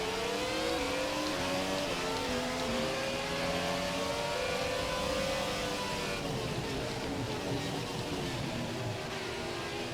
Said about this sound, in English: A lot of nice engine sounds around us, I must say.